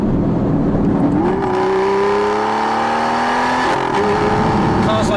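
Aston Martin Vantage engine revving hard on a desert road, a loud sustained rising howl with a sharp throttle blip near the end, close and continuous, no talk over it.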